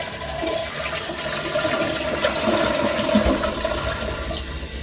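A Kohler Wellworth 1.6 gallon toilet flushes in a bathroom, a steady rushing swirl of water that holds for several seconds with no talking.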